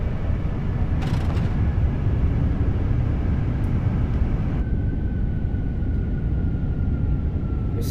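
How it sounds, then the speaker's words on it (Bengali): Airliner in a mobile flight simulator rolling out after landing with spoilers deployed and reverse thrust engaged, giving a loud, steady broadband engine roar that holds throughout, with a brief hiss near the start and a thin whine later. "স্পয়লার ওপেন হয়ে গেছে, রিভার্স থ্রাস্টে চলতেছে"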